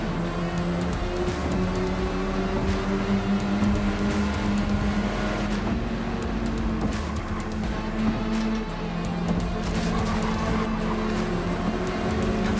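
A racing car's engine drones continuously in a racing video game, with its pitch climbing and falling through the revs, loud and close for the whole stretch, with no one talking.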